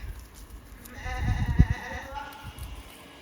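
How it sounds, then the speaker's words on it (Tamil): A sheep bleats on a villa farm in Portugal, a short wavering cry that rises to a louder peak and fades, heard at moderate distance under ambient outdoor noise. "இங்க பாருங்க, ஆடு, செம்மறி ஆடு."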